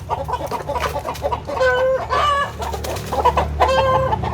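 Chickens at a Thai home flock cluck steadily close by, with a rooster's crow rising through the middle and near the end, the birds loud and continuous over a low rumble of background noise.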